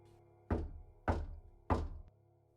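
Three evenly spaced, dull knocks on a door inside a house, close and fairly quiet, each a heavy thunk with a short decay, heard alone.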